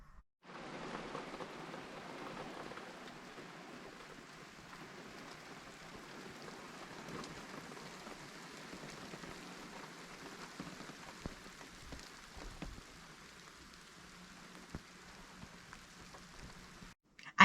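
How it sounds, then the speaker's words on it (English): Steady rain falls and patters on surfaces, a continuous soft hiss with occasional louder drops, no voices. "Good morning, and as promised, we have rain."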